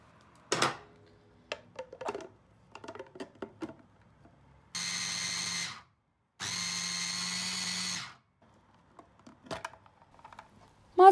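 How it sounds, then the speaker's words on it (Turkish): Food processor chopping parsley, onion and peppers for lahmacun topping, running in two loud steady bursts of a few seconds each with a pause between, framed by lighter clicks and knocks before and after. "Ben rondomun haznesi büyük olduğu için biberlerle tekrar çekeceğim."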